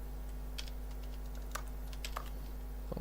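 Computer keyboard keys are pressed while game settings are adjusted: a few scattered light clicks and taps over a steady electrical hum, with no talking.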